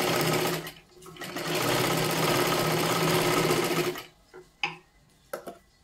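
A sewing machine double-stitches a princess-cut blouse, running in a loud, close, continuous burst for about four seconds after a short stop, then gives way to quieter handling clicks.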